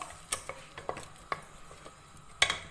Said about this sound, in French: je commence à mélanger, à faire réduire mes oignons, mon ail avec ma tomate